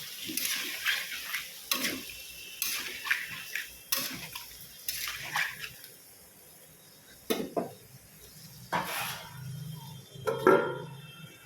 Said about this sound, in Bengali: কষিয়ে তারপরে এর মধ্যে জল দেবো